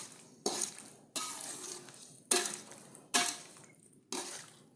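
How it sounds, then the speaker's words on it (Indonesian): Coconut milk with tofu is stirred in a pot, five distinct scraping sweeps of a utensil each starting sharply and trailing off, with a gentle simmering bubble underneath and no talk. "Terus diaduk ya biar santannya nggak pecah."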